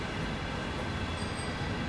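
Train running in a Dutch railway simulator video game, a steady low rumble with faint high tones from the cab, constant and moderately quiet for the whole short stretch.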